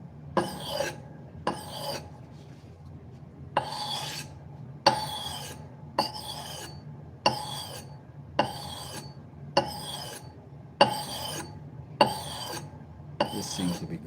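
A knife blade is drawn along a sharpening system in about a dozen evenly spaced rasping strokes, each a short bright scrape, close and distinct against a quiet background.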